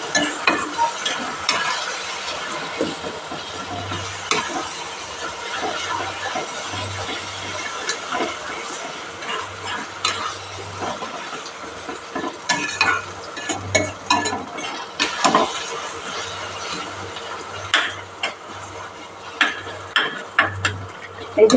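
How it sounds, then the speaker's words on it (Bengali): Spice masala for Bengali chicken kosha is stir-fried in a pan with sugar and salt, a continuous sizzle with frequent clattering scrapes and stirring strokes, near and without voices. "এবার এটা আমি ভালো করে কষিয়ে নেব মশলাটা"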